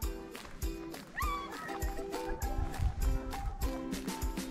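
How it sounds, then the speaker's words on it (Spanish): Horses stirring close by on a mountainside near Rucu Pichincha, Ecuador, with snorts and a brief whinny over a busy outdoor background. "Ahí están los caballos."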